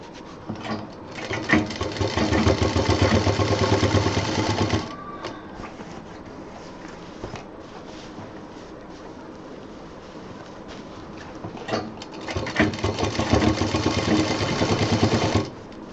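A sewing machine stitches the wide edge seam of a college bag made of thick terry-cot fabric with a 6-inch border, running loud and steady in two long bursts with a quieter pause between them.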